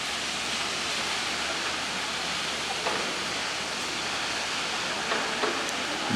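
Jeongbang Waterfall on Jeju Island, a continuous broad roar of falling water, steady and fairly distant, with a few faint clicks over it and no voices.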